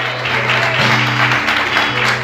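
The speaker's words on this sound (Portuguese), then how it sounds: "Quantos podem aplaudir Jesus?" A church congregation claps in a dense, sustained round of applause, close and loud, over a low steady hum from the sound system.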